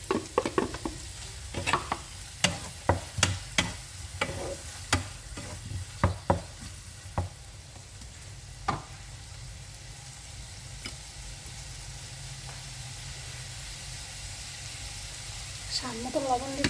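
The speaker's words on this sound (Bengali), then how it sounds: "ভাজা চিংড়ি মাছটা দিয়ে দিব।" Fried shrimp stirred into a pan with garlic paste, while bottle gourd greens are being cooked; a spoon clatters in bursts of sharp scraping taps over a steady low sizzle, then the frying continues more quietly.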